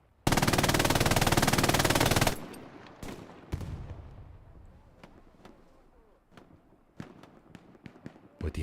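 MG42 machine gun in a World War shooter game: a rapid, loud unbroken burst lasting about two seconds, then scattered single distant shots and impacts trailing off.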